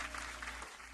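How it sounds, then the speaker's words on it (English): An audience applauds a drummer, a brief, faint burst of clapping over a low steady hum. "More applause."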